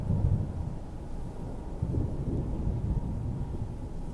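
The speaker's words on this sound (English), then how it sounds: "Constant thunderstorm." A constant thunderstorm in the ash-covered Soul Cairn of Skyrim, heard as a dense low rumbling roar with swelling thunder-like surges and a windy wash, steady and loud with no speech.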